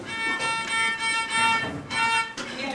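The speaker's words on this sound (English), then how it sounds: "The next thing I teach them to do is to do a pepperoni pizza bow stroke." A student bows a short rhythmic violin pattern of repeated detached strokes on one string, a few quick bursts over under three seconds in a recital room.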